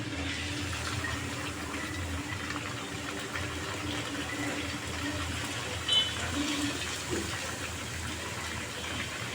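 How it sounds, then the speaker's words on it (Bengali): Belpuri puffs fry in hot oil, giving a steady, close, even sizzle with a low background hum throughout. "তেলটা গরম হয়ে গেছে, আমি একে একে বেলপুরি ছেড়ে দেব।"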